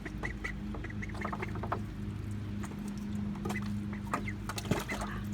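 Small beige ducklings quack and peep in quick, scattered bursts over a steady low hum in a bathtub, close by and moderately loud, with no talking.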